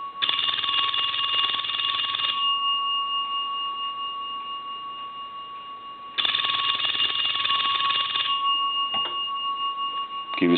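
An old A&E Spacesaver telephone bell rings in two long, loud, rattling bursts separated by a pause, with a faint ticking clatter between rings.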